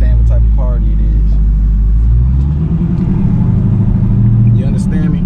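Car engine rumbling with the windows rolled down, a loud steady low drone that dips slightly midway, with a person talking faintly over it.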